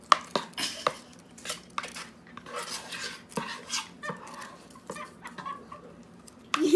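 Slime being stirred in a bowl, giving a run of wet clicks and scraping taps at an irregular rhythm, close and moderately loud, with no talk.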